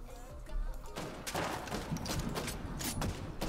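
Gunfire in an online team shooter video game crackles in quick bursts and volleys at moderate loudness, mixed with game noise throughout.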